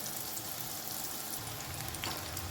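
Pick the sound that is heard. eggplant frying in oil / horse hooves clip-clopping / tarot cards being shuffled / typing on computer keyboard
eggplant frying in oil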